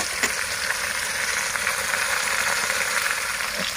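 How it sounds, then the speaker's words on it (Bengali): Pangas fish frying on a village clay stove, a loud, even sizzle of hot oil, close and unbroken, with no talking. "আমার মাছগুলা ভাজি হচ্ছে, গ্রামের মাটির চুলায় রান্না"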